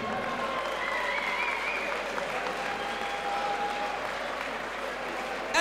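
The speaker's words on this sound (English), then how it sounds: "Ladies and gentlemen, give him a hand, come on." Crowd applause at a Fightstar Championship 13 MMA event, honoring fighter Phillip George, fills the hall steadily and evenly, with a faint whistle tone drifting through.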